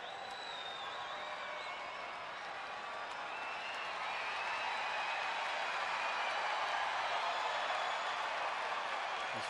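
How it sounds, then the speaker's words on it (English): A large Friday night baseball crowd at Petco Park roars steadily and builds slightly louder, a broad distant wash of cheering with scattered clapping, heard alone. "This Friday night crowd at Petco Park makes some noise in the 3-1 pitch"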